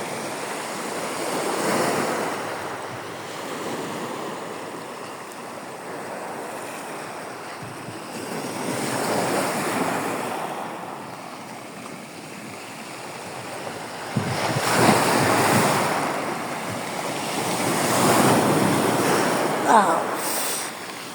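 Sea waves wash over a stony beach at Sifa beach as the tide rises, with recurring surges of rushing water and rolling stones that swell and recede, heard close up under steady wind.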